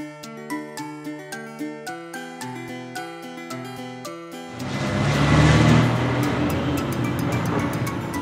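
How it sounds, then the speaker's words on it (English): A sedan car rolls past with a broad engine and road roar that rises suddenly after a stretch of plucked tune, then holds steady and close with no speech. "Sedan, car."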